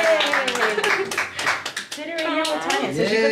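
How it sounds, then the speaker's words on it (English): A baby girl claps her hands at her birthday gift opening, light quick taps mixed under excited adult voices cheering and talking throughout. "So she could clap."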